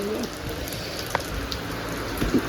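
Rain falls steadily outside a house, a soft, even patter with a few sharper drips, fairly close and unbroken by speech.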